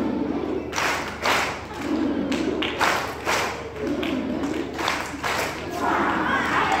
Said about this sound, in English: let's give a love clap